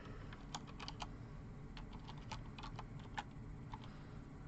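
Quick, irregular keystrokes clatter on a computer keyboard, close and fairly quiet, with a low steady background hum beneath.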